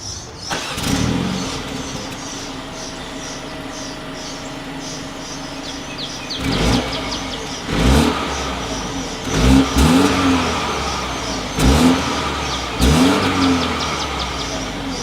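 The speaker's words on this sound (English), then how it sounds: "As always, here is that exhaust clip" A 2020 BMW X1 SUV engine idles, then revs sharply several times in a row, each rev rising and falling, with a deep dual-exhaust rumble close by.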